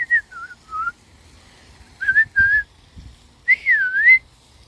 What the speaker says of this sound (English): That's what my whistling sounds like